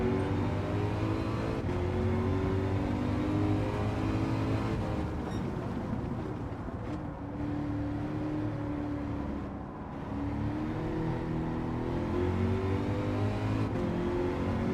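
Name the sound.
V8 car engine accelerating in video game Gran Turismo 7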